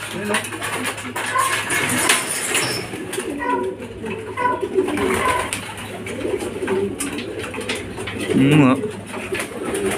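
Racing pigeons coo and call close by as they arrive at the loft after a club training flight, amid rustling and clatter, with people talking over the birds throughout.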